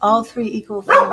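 A pet dog barks a short sharp bark indoors, heard together with a person speaking over it.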